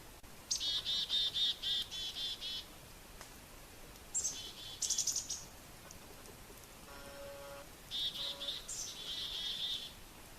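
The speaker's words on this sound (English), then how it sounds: "Even the woodpeckers come to check it out." Birds call out in the wild in several bright bursts of chirps and tweets, spaced a few seconds apart against a soft, steady background hiss.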